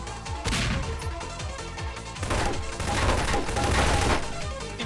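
A burst of rapid gunfire in a Prop Hunt video game fires repeatedly at a window, sharp cracks in quick succession with glassy smashing, near and loud, and no talk over it.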